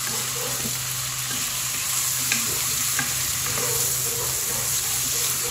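Chicken and gizzards sautéing in a pan for tinola, a steady close sizzle and frying hiss with occasional stirring clinks, no voice.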